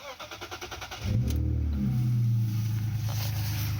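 A BMW E46 car engine cranks with a rhythmic starter chug for about a second, then fires and catches into a loud, steady idle that flares briefly before settling, heard close up after ECU reprogramming.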